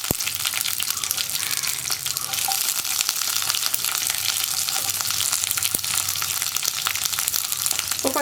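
Green chillies, split and cut crosswise, fry and get stirred into a chickpea curry in a pan, giving a steady loud sizzle throughout with occasional scraping stirs and no talking.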